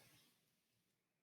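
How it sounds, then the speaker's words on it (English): A single sharp computer mouse click lands right at the end, near and brief, after near silence, while closing a window during a chemistry lab demonstration of the electrochemical series. "close by clicking on the X"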